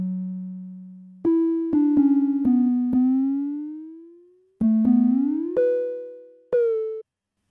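A simple synth melody run plays clean, bright tones that step and glide between notes in short phrases, with gaps of silence between them and no voices.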